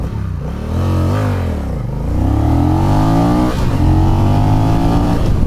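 A 2024 Honda Rebel 1100 cruiser accelerating hard on an open 60 mph road, a loud, close engine roar climbing through the gears with rising pitch, a brief dip at each shift, then pulling strongly again.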